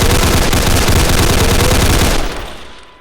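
Rapid automatic gunfire in the Roblox video game, a loud continuous burst of shots for about two seconds that then cuts off and fades into a decaying tail.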